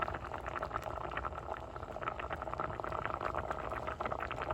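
Tofu simmers in a thick coconut curry gravy in an Indian-style pot, giving a soft, continuous bubbling and low rumbling that stays steady and fairly quiet, with no talking over it.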